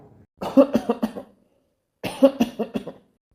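Two bursts of coughing, each a quick series of three or four hacking coughs, close and clear with a short silence between them.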